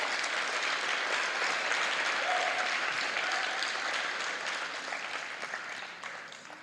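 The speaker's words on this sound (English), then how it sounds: "Fifth graders, can we give our teachers a round of applause?" An audience at a 5th grade recognition night at Potter School applauds the teachers with a sustained, full round of clapping that holds steady and then tapers off toward the end.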